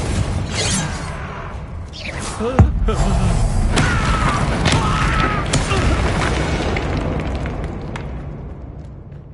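Explosive Confringo and Bombarda spells in Hogwarts Legacy go off as loud booming blasts, one sharp burst standing out, over a rumbling game soundtrack with a voice calling out at times.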